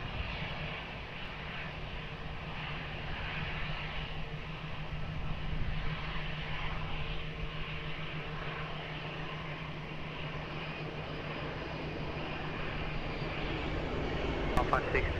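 An airliner approaching runway 20 at Lisbon Airport gives off a steady, sustained engine roar that holds level throughout. Radio voices can be heard faintly beneath it.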